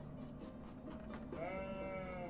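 A sheep bleats in a Sumerian city builder game, a single wavering bleat rising over a steady bed of game ambience and music, close and moderately loud.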